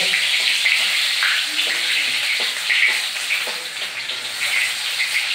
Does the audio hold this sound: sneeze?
no